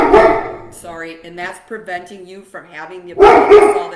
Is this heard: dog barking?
yes